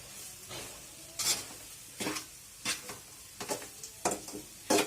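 Spoon scraping and stirring pudina (mint) rice in a pan, with a series of distinct clinking strokes against the metal over a soft sizzle, close and fairly loud, no talk.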